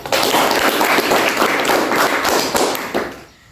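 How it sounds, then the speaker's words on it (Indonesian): Audience applause at a school talk event, dense and loud clapping sustained for about three seconds before fading out quickly at the end. "Boleh minta tepuk tangannya?"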